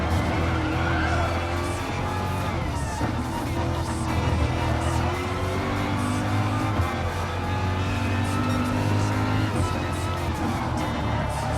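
Gr.3 race cars, including a BMW M6, lap the Dragon Trail Gardens circuit in Gran Turismo Sport during an endurance race, a steady, loud engine drone with shifting pitch and no pauses throughout.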